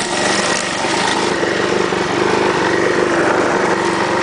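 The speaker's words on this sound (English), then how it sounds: "It's the Get Her Done lawnmower." A homemade lawn mower engine runs loud and close with a steady buzzing drone that holds constant throughout.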